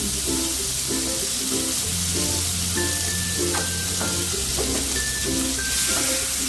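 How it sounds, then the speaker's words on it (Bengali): Chopped onion fries in hot oil for a rui posto dish, giving a loud, dense, steady sizzle with faint background music underneath. "পেঁয়াজটাকে একটুখানি ভেজে নেব"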